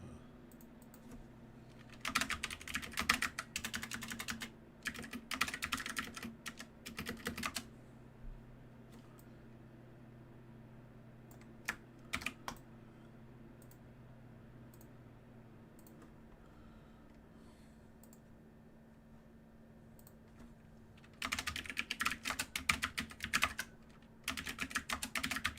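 Computer keyboard typing in quick bursts of clicks, with pauses of quiet room hum between them and a longer run of rapid keystrokes near the end.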